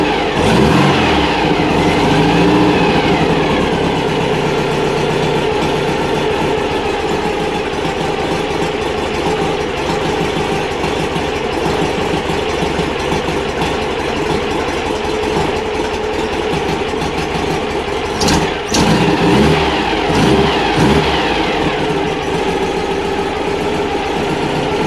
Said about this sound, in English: It's just air-cooled engines just sound epic.